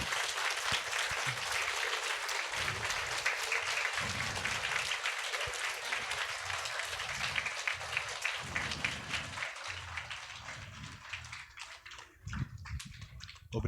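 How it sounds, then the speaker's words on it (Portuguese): Sustained clapping from a school audience at a children's storytelling event, dense and continuous for over ten seconds, with scattered voices and shouts mixed in. The applause thins slightly toward the end. "Então, quero um aplauso agora"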